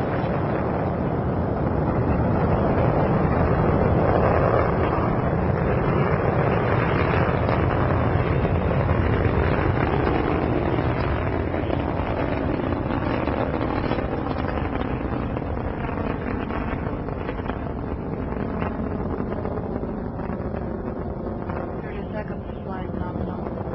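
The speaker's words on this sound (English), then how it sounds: "Liftoff of the Soyuz rocket transporting Jeff Williams, Pavel Vinogradov, and Marcos Pontes to their microgravity home in space." A Soyuz TMA-8 rocket lifting off on the Expedition 13 launch gives a continuous, loud, broadband roar that rumbles steadily throughout, easing slightly toward the end.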